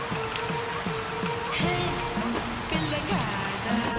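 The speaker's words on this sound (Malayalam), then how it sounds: "എന്താ മഴ." Steady rain falls heavily throughout, a dense, continuous patter on surfaces nearby, with background music or tones running underneath.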